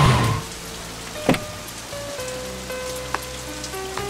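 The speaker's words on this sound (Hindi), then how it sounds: "बारिश आ गई है, चलो।" Steady rain patters on surfaces outdoors, a constant wash of drops with a few sharper knocks and faint mechanical tones over it, and no voices.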